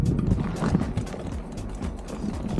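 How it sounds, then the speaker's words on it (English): A bicycle chain rattles and slips while a rider crosses a rough trail strewn with boulders and roots near Lake Tahoe, with a rapid, irregular run of close metallic clatters. "Is my chain falling off?"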